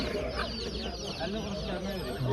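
Chickens and chicks cluck amid the busy, continuous bustle of a poultry market, with voices mixed into the steady crowd noise.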